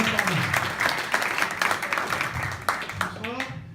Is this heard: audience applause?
yes